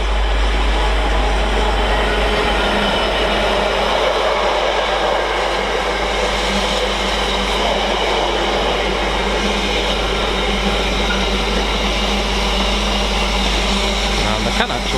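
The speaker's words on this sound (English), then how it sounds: "the next freight through is going to be another Class 66 from Trafford Park to Felixstowe" Class 66 diesel freight train rolling steadily through Stafford station on the West Coast Main Line, a continuous loud rumble and wagon clatter lasting throughout, with a low engine drone underneath.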